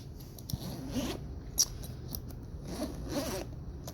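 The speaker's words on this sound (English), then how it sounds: "the zippers on these bags are actually of a really good quality" A zipper on a VETO Pro Pac tool bag is pulled in several short, close rasping strokes, with brief pauses between pulls and one sharper snag midway.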